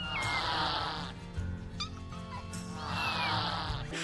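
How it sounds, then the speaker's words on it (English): A kitten gives high squeaky cries while its belly is scratched, two drawn-out squeals separated by quieter chirps, heard faintly over a low background hum. "it's just that video where the cat is getting his belly scratched, and he goes like, "Ee!""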